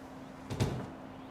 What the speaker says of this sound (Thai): มีเสียง เสียงคนลากของไปมา